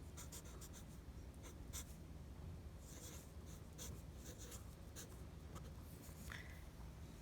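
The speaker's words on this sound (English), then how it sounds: "I'm writing right on top of the line." A pen scratches along an outline line on paper, steady faint rubbing strokes with small taps throughout, close and quiet with no voice.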